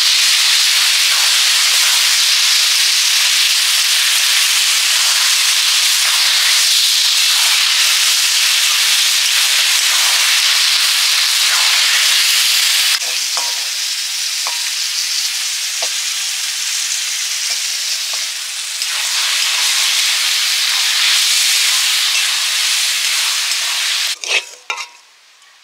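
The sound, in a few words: stir-frying jute leaves in a pan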